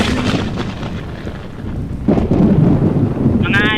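Thunder from lightning in the Dead Rails video game rolls as a loud, deep rumble that swells partway through and lingers, with a brief electronic chime at the end and talk mixed in.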